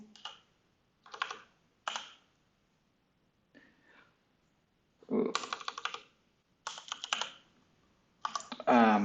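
Keys clatter on a computer keyboard as a server name is entered, in short bursts of rapid close taps separated by pauses.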